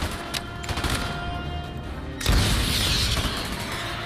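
Gunfire crackles in a video game battle, rapid bursts of automatic shots, then a louder explosive crash and sustained noisy combat.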